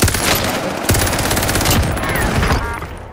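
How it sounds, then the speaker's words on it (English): Gunfire in a team-based shooter video game comes as loud, overlapping bursts and scattered shots, a dense, close volley that eases off near the end. "Receiving hostile fire."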